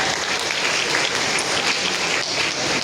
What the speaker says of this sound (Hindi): अवार्ड दिए जाएं और तालियां ना हो तो मेरे ख्याल में ये ज्यादती है।